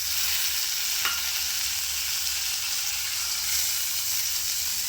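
Onions sauté in a pan until soft, giving a steady close hiss of frying with a faint stirring tap, heard alone without talk.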